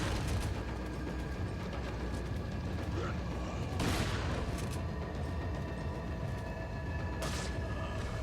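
Shotgun blasts in the video game Resident Evil 4 on Xbox One: two sharp bursts rise a few seconds apart above a constant bed of dense game noise.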